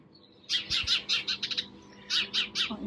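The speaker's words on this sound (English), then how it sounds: "there's a sparrow up there having a good little chatter" A sparrow chatters from a tree in a late-autumn garden, giving quick bursts of sharp chirps in two close clusters, loud and near with a quiet background and no talking.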